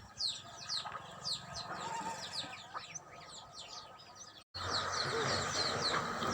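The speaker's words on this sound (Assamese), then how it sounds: "হাঁহ কুকুৰাবোৰ খেদা একদম নম্বৰ 1 ধৰিছে" Domestic ducks and chickens cluck and chirp in a household yard, with short repeated calls scattered throughout at moderate distance, briefly cut off and then resuming.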